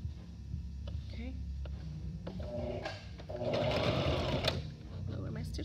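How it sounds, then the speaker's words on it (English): A sewing machine runs steadily while stitching side seams in fabric, its motor hum and rapid needle rhythm swelling louder midway, with a person talking over it. "sew up those side seams at my 5 1/8 seam allowance"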